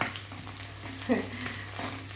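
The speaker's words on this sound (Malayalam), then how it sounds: "ചിലപ്പം തേറിച്ച് കണ്ണിലോട്ടും എല്ലാം വീഴും കടുക് പൊട്ടിത്തെറിക്കുമ്പോഴേക്കും ഈ എണ്ണ" Mustard seeds spluttering and popping in hot oil while tempering for pickle, a steady close sizzle with a brief louder burst of crackle midway.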